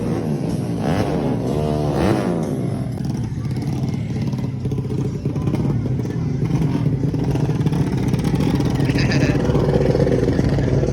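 Motorcycle engines rumble and rev continuously at the start grid of a crowded drag race event in Aceh, with voices talking and clattering noise over the steady engine noise.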